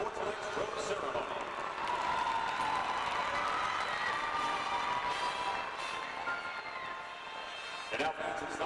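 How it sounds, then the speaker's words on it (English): A crowd applauds honorees at a gymnastics meet's rose ceremony, sustained clapping and scattered cheers in a large echoing arena with voices mixed in and a brief louder burst near the end. "Let's have a round of applause for all the individuals who have joined us for tonight's rose ceremony."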